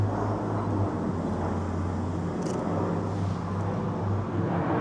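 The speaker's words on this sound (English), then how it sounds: "Where's this plane?" An airplane passing overhead above an urban landscape, heard as a steady, distant droning roar that holds level throughout, with no voices.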